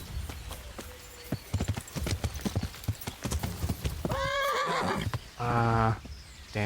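Horse hooves clip-clopping in a quick rhythm, then two loud whinnies close by, in the Kingdom Come: Deliverance video game.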